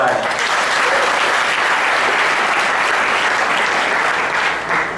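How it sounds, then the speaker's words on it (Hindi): Sustained audience applause at an event, a dense even wash of many hands clapping throughout with a faint voice underneath. "आपकी तालियों का इंतजार कर रहा है।"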